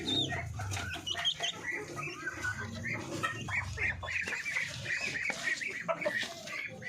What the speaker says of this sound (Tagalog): Ito naman yung ating darag mga Pinoy na dalawang rooster tsaka yung isang hen.